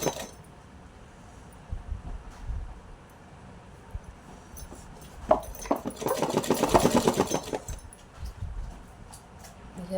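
Sewing machine stitching a neckband strip on a small Laddu Gopal deity dress: a quiet hum and faint ticks, then a louder whirring run of fast stitching for a couple of seconds, with soft handling clinks around it.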